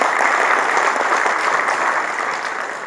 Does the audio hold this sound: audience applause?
yes